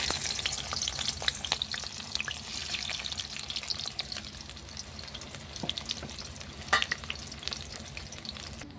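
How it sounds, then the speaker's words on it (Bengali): Chopped onions sizzle and crackle in plenty of hot oil in a pan over a clay stove, a steady fry marked by sharp pops and occasional scraping stirs, close and moderately quiet with no speech. "তেলটা গরম হয়ে গেছে পেঁয়াজ কুচিগুলো দিয়ে দেবো"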